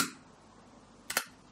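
A Zorki rangefinder film camera's shutter fires at a one-second speed, a sharp mechanical click to open followed about a second later by a second, louder double clack as it closes, close and isolated.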